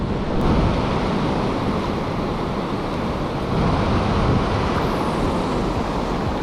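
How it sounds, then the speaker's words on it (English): High ocean waves breaking on a shore while fishing, a constant heavy roar of surf mixed with wind buffeting the microphone, loud and unbroken, with slight swells in intensity and no voices. "Look how high these waves are breaking"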